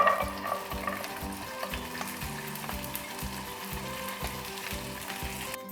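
Almonds and raisins fry in one to one and a half tablespoons of ghee. A dense, steady sizzle carries on throughout, with a low rhythmic rumble pulsing underneath.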